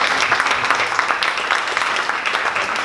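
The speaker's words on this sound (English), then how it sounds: "one more round of applause for Data Stomp" A round of audience applause at a community tech meetup in Dallas, a dense patter of many hands clapping steadily throughout, moderately loud with no voices on top.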